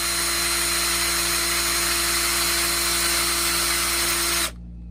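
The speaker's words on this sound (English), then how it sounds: "So let's get a pilot hole going first, and that will make it a lot easier." A power drill bores a pilot hole into a wooden walking stick, a loud steady high whine running continuously for over four seconds before cutting off abruptly.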